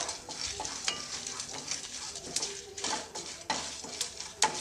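Dried red chillies frying in a pan, stirred while cooking for a pineapple gojju; steady close sizzle with repeated scraping and clinks of a utensil against the pan, no voices.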